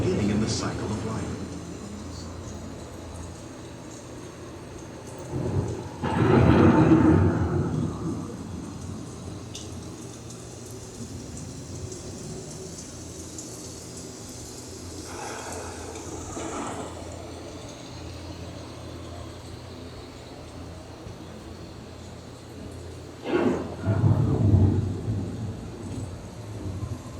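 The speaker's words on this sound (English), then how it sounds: "The approaching storm may seem violent and destructive to us" A simulated thunderstorm plays as a theme park ride effect, with two heavy thunder rumbles standing out above a steady hiss of rain, while a narrator talks over the scene.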